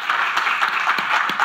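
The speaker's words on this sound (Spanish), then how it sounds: "Un fort aplaudiment, si us plau, per aquest enginyer aeronàutic amb rècord, Héctor Salvador." An audience at the Saló Nàutic 2023 in Barcelona claps for an aeronautical engineer, a brief, loud burst of many hands applauding together.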